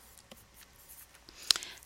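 Pen or pencil scratching out a quadratic factoring problem by hand, soft intermittent strokes close by in a quiet room, ending with a sharper tap.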